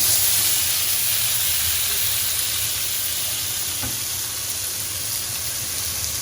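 A herb-crusted rack of lamb sears loudly in a hot pan, giving a steady close sizzle and hiss throughout with one brief clack partway through, and no talking.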